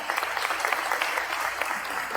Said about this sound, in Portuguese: Salve de palmas para eles, né, pessoal?